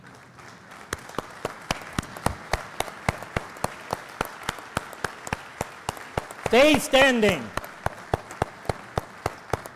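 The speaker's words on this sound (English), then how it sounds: "Quit clapping." Clapping at a church convention, with sharp, evenly spaced claps in a steady rhythm that sound close and distinct rather than like a dense crowd. Someone speaks briefly partway through.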